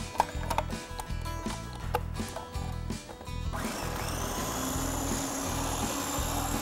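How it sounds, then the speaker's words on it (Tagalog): Food processor grinding corn kernels for a Filipino corn soup, a loud steady whir taking over after a few seconds of knocking and clattering, running continuously close by with no talk. "Mayroon tayo ditong food processor."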